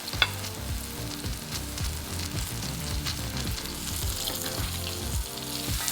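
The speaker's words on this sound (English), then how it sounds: "because you want them to fry, you don't want them to steam, so I'm going to do it in 2 batches" Chicken pieces frying in a hot pan, giving a continuous loud crackling sizzle with popping spatters, close up and steady, with no speech.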